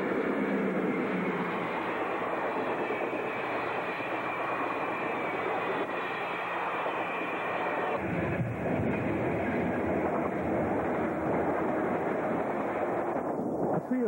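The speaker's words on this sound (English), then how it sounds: "Passenger train number 9 passes by us." A passenger train rolls past on an Ontario main line, a loud continuous roar of wheels and cars that stays steady, then deepens and shifts midway as different cars go by, with no talk over it.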